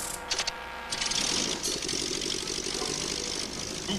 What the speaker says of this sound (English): Sounds like a plane engine to me, Sheriff Buford.